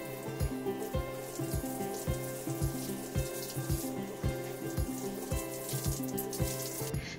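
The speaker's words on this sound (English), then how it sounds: "And then you rinse." Running water rinsing shampoo out of hair, a soft, steady splashing and trickling with faint rhythmic dripping taps, fairly quiet and close.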